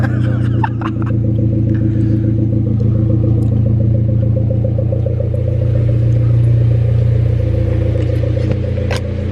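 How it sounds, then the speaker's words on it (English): A Hyundai Genesis Coupe engine on cold start, a loud low idle drone with rumble and some clatter, steady and close, with a brief catch early on. "All right, here goes the cold start."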